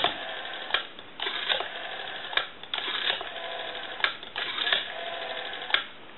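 A repaired Western Electric 202 rotary telephone with E1 handset dials repeatedly, its mechanism whirring and clicking in a series of bursts separated by short pauses and sharp ticks, close and clear with no talking.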